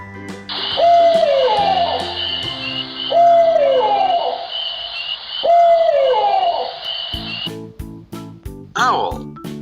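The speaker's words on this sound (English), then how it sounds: "Owl." Three repeated owl hoots at a steady pace over a synthetic children's music backing, with a short call trailing at the end.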